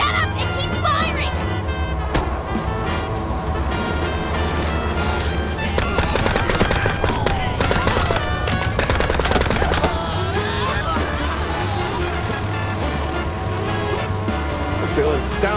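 Machine gun fire in the video game Mouse P.I. for Hire, sustained rapid bursts mixed with game music and effects, with voices talking over the shooting.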